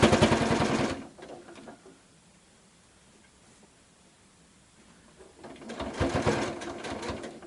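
Close by, a sewing machine stitches a quilted scrappy tissue box cover, running in a fast burst, falling quiet for a few seconds while the fabric is pivoted, then stitching again.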